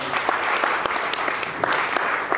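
A church seminar audience claps together in a dense, steady wash of applause with scattered sharper claps, loud and continuous throughout.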